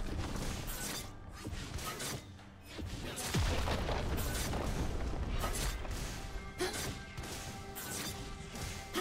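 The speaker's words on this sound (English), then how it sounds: "Team's turret has been destroyed." A turret being destroyed in League of Legends during a top-lane Akali versus Riven match: heavy crashing booms and impact thuds layered over dense, continuous game effects and music.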